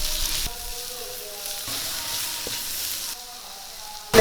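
Chopped shallots and onions sautéing in a hot pan give a steady sizzling hiss, with a few stirring scrapes and a short clatter at the end.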